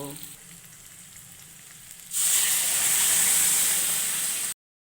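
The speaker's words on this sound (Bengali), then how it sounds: "আমার ফুলকপি, গাজর, মটরশুঁটি ভাজা হয়ে গেল" Cauliflower, carrots and peas frying in a pan: a quiet stretch gives way to a loud, steady sizzle that holds until it cuts off.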